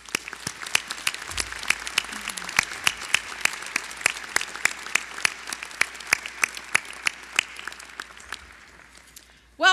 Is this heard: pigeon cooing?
no